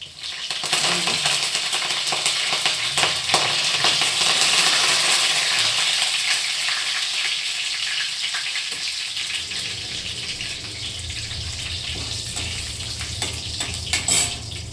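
Curry leaves drop into hot oil for an okra stir-fry and set off a loud, crackling sizzle that spits and pops steadily, then settles into a softer fry.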